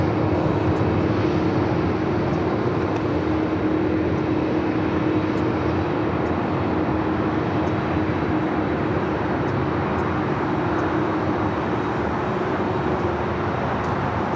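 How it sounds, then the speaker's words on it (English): A Hawaiian Airlines Airbus A330-200 taking off from Los Angeles International Airport, with a loud, continuous jet engine roar and a steady low hum held at the same level throughout. "This is Hawaiian Airlines 803 taking off to Honolulu on the A330-200."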